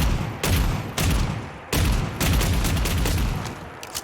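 An Armsel Striker shotgun fires frag rounds in Fallout 4, about six loud booming shots spaced unevenly, each followed by a rattling echo tail.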